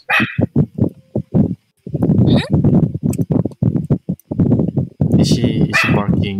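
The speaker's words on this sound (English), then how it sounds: "he's barking at the door" A dog in a Minecraft game barks repeatedly at a door in quick bursts, fairly close, mixed with people talking over it.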